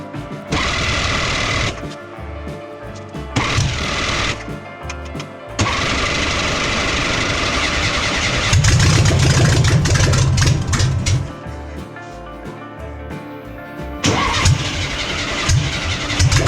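A Porsche 356 replica engine cranks in several separate bursts, then catches and runs rough and loud, with more cranking and revving toward the end.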